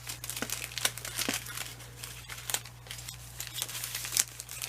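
Adhesive fringe tape being cut and handled, with repeated crinkly, scratchy rustles and snips close to the microphone over a steady low hum.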